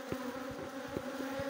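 Honey bees buzzing at a beehive during a hive inspection, a steady close drone with a few brief louder passes of single bees flying near.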